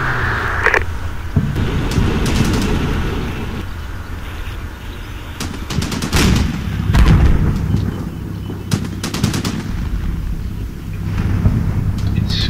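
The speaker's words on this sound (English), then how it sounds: "Meanwhile, the tanks are returning fire." Tanks returning fire in the Combat Mission: Shock Force war game, heavy booming cannon reports and rumbling explosions scattered over continuous battlefield noise, several loud blasts in irregular succession.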